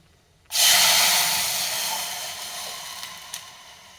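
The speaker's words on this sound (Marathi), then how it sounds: "हिंग, कढीपत्ता, ताक आपण याच्यात ओतून घेऊया." Buttermilk poured into a hot tempering of cumin, asafoetida and curry leaves in a pan for Maharashtrian takachi kadhi, a sudden loud hiss and sizzle that starts abruptly and slowly fades, with a couple of faint pops near the end.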